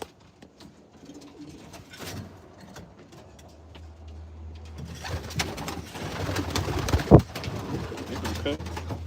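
Racing pigeons coo in a loft, soft throaty calls rising in density over the second half, with rustling and a sharp clack close by, near and moderately loud.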